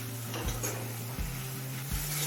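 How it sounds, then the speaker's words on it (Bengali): Spice paste for a spiny gourd (kakrol) dish stir-fried in a pan over a medium flame, with a steady low sizzle and a few scraping stirs of the spoon roughly every second, close and fairly quiet. "এবার মিডিয়াম ফ্লেমে কিছুক্ষণ কষিয়ে নেব"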